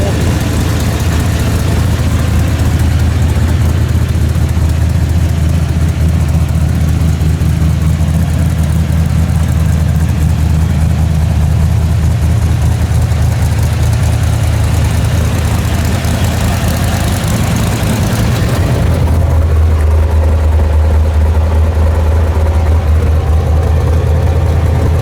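An old black truck's engine idles loudly and steadily in a snowy garage setting, with a deep low rumble that shifts slightly as the mixture is adjusted near the end; voices talk faintly over it.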